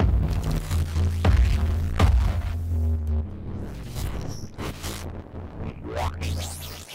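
A processed sound passes through a saturator, delays, a frequency shifter and a moving EQ, giving throbbing low pulses, swept tones and scraping textures that shift and echo over several seconds.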